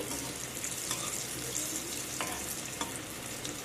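Chholar dal dhoka, lentil cakes, fry in hot oil, giving a quiet, steady bubbling sizzle with a few faint taps from a utensil.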